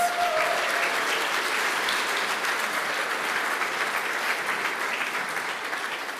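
A large audience at an awards ceremony applauds in a full, sustained wash of clapping that holds steady for several seconds before starting to thin out.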